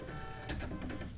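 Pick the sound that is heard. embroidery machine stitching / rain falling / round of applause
embroidery machine stitching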